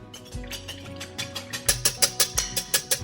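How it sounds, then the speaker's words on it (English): Whisk beating one egg in a large bowl, a rapid series of light clicking, rattling strokes that grow quicker and more regular, close up. "Let's start by whisking 1 egg in a large bowl."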